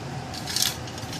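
A single quick snip of thin wire being cut short with cutters while building a sap flow probe, a brief close metallic click over quiet room tone.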